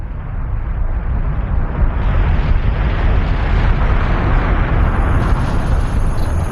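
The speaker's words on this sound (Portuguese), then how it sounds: "Mas em poucos dias, as explosões começaram." Deep, sustained roaring rumble of powerful volcanic explosions, loud and continuous with heavy low-end booming and no pauses.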